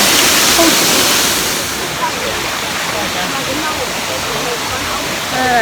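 A waterfall in a canyon in China pours with a loud, steady rush of broadband water noise, close by and constant, with faint voices mixed in.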